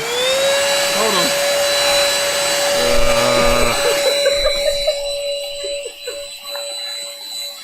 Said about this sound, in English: this brush vac combo is actually doing quite well for this